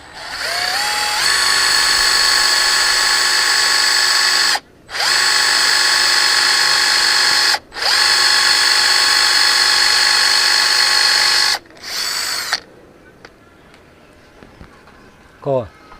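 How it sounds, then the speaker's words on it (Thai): A loud, steady power drill whines in long continuous bursts with brief pauses while drilling holes in wood, then a shorter final burst before falling quiet. "ก็จะลองเจาะดูสักรูสองรู"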